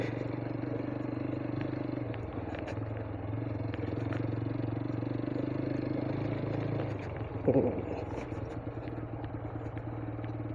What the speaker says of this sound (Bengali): আমি যে বাইকটা চালাই এটার নাম হচ্ছে অ্যাপাচি 160 4V